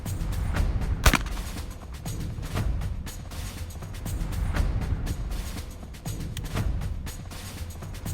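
Shotguns fire at an outdoor trap and skeet range at Camp Atterbury in Indiana, a string of sharp reports at irregular intervals, some near and loud, others more distant, over a constant outdoor rumble.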